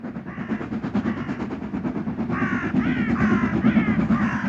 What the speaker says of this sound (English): an Austerity heads a northbound coal working